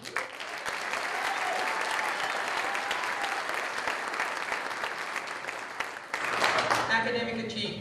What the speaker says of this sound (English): if you would hold your applause till they stand